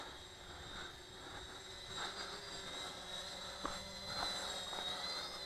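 A Central UAS A350 FPV model aircraft flying among trees, its motor a steady distant whine holding at a constant level throughout, with faint rustling.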